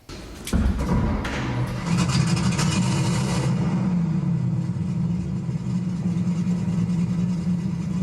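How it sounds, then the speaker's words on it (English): A 1935 V12 car engine starts with a sharp crank, then settles into a deep, rumbling idle with a brief rev early on, loud and close. "There's an audio system here with the exact sound of the engine."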